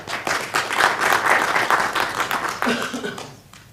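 Audience applause at a university talk, a dense burst of clapping from a crowd that swells, holds and then tapers off near the end.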